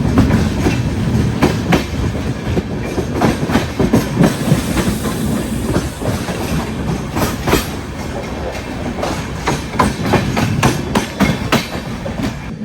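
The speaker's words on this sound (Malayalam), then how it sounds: "നമ്മുടെ പൂർണ്ണ എക്സ്പ്രസ് മഡ്ഗാവിൽ നിന്ന് എടുത്തിരിക്കുകയാണ്" The Poorna Express runs out of Madgaon in the monsoon, heard from on board as a steady rumble with rhythmic clickety-clack from the wheels over the rail joints. The sound stays continuous and fairly loud, with no talk.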